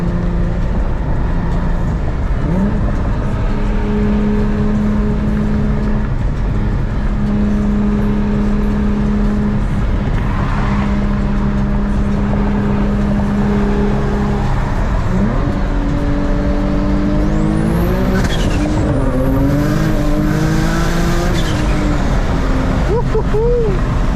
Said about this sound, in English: I ain't done a pull in this car in so long.